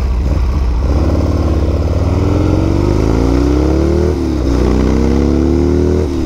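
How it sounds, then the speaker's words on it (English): A modified older Harley-Davidson Sportster engine, fitted with a Shorty carburetor, revs loudly up close, rising in pitch, dipping briefly near four seconds, then climbing again. "This motor's definitely been modified. It runs great. It pulls very strong."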